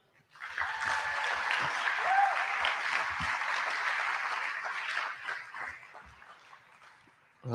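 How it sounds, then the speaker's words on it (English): Audience at an awards banquet applauding student research helpers, a steady round of clapping that swells quickly, holds for several seconds and fades out near the end. "Please clap for them."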